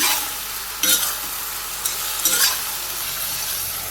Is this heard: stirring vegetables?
yes